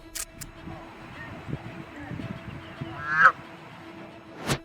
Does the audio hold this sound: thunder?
no